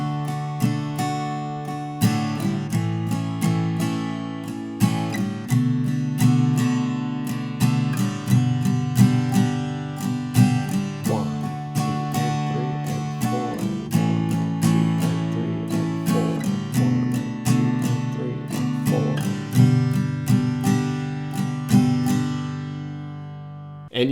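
Acoustic guitar strumming the chords of a song, steady rhythmic down-and-up strokes ringing in an even pulse for the whole stretch, played alone without talk.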